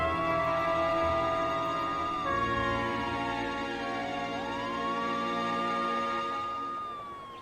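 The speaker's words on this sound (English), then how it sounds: "To Bear, it was ages before the wail of sirens filled the air" Emergency sirens wail at a fire, several rising and falling tones overlapping in long sweeps, loud and sustained, easing off at the very end.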